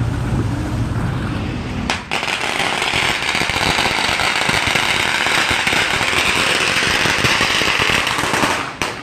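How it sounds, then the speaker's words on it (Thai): Firecrackers thrown during a temple procession explode in a dense, continuous crackling barrage, loud and close, with one sharp louder burst near the start and another near the end. "อ๋อเขาทิ้งประทัด"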